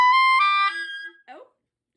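A clarinet plays a short run of high altissimo notes, bright and thin, a few steps rising over about a second, then a brief squeaky fragment before silence.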